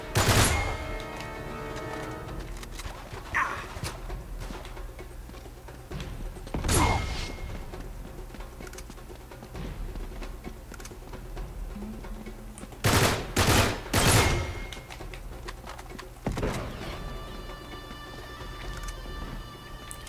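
Rapid bursts of gunfire in a co-op Uncharted 3 firefight set in Syria, with loud clustered volleys and single thumping shots scattered over ongoing game noise and music, close and sharp.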